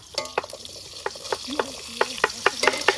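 Bay leaf, cumin, cinnamon and black pepper fry in oil in a village-style kitchen for a Bengali shellfish curry. A light sizzle sits under quick, close clinks and taps of a utensil against the pan.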